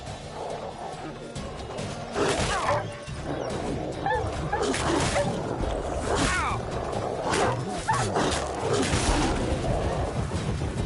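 Stray dogs snarl, bark and yelp in The Witcher 3 as they attack, a busy scuffle of growls and sharp yips, with a voice speaking over parts of it.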